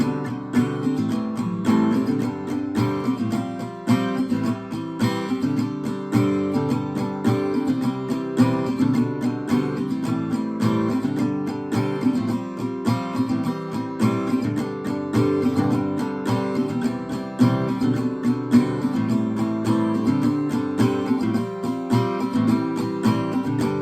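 Acoustic guitar playing the first part of the outro to a song, live version, steady strummed chords in an even rhythm, full and close, continuing for about twenty seconds with no talking.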